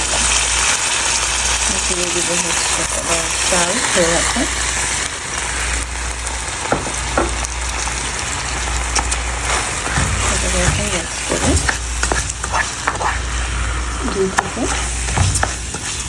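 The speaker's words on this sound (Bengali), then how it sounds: "তিন মিনিট আমি ভেজে নেব" Something frying in ghee for Bangladeshi ilish pulao, a steady broadband sizzle with occasional stirring scrapes, while a voice talks intermittently over it.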